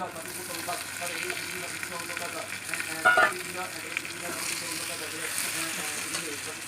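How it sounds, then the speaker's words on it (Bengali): Broiler chicken meat sautés in a pan with onions being added, making a steady, moderate sizzle with a brief clatter of stirring midway. "আমার ব্রয়লার মাংস একদম হয়ে গেল কষানি হয়ে গেল পেঁয়াজগুলো দিয়ে দেবো"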